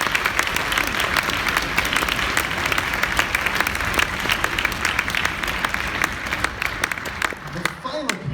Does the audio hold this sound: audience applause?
yes